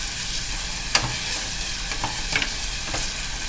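Onions stirred in a pot as they fry for white rice, a steady soft sizzle with a few scraping clicks of the spoon against the pot.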